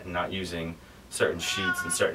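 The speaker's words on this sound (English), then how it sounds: "Sorry, that's my cat." A pet cat meows a few times, near and fairly loud, over and between a woman's indoor speech.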